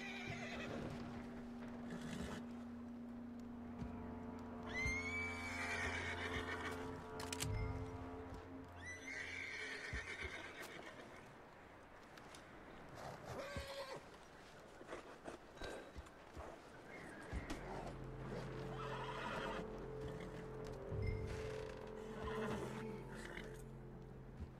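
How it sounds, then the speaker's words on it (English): In the Red Dead Redemption 2 video game, a horse whinnies and neighs several times, with hoof clip-clops and snorts between the calls and occasional background noise. "Calm there, horsey. There, boy."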